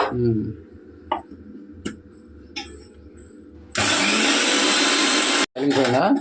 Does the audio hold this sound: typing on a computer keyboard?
no